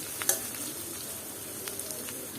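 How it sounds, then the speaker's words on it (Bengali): Onion being stirred and fried in a pan for a Bengali spicy bacha fish curry, a steady close sizzle with a few quick spatula scrapes and clicks, no talk. "আর সামান্য একটু নেড়ে চেড়ে দিলাম পেঁয়াজটা হালকা ব্রাউন কালার করে নেব আমি"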